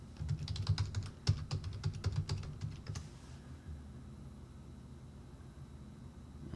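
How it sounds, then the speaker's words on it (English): Rapid keystrokes on a computer keyboard enter a terminal command for about three seconds in a quiet room, followed by near silence. "we're going to type in sudo update grub"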